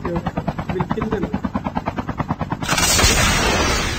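Video game helicopter with a steady rhythmic rotor chop, joined near the end by a loud burst of gunfire and explosions that swamps it, with a player talking over the top.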